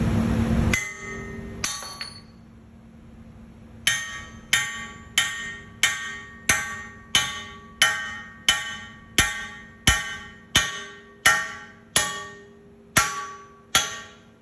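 A hammer strikes a ductile cast iron part about a dozen times in a steady, even rhythm, each blow a sharp ringing metallic clang that decays quickly, close and loud with no speech.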